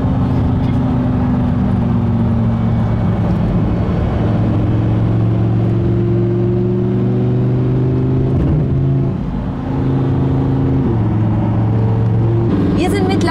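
A Lamborghini Huracán EVO travels country roads, its engine a steady close drone with pitch rising and dropping as it revs and shifts, continuing for several seconds.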